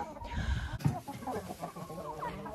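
Several hens cluck and murmur close by, a busy overlapping chatter of short calls with occasional higher squawks.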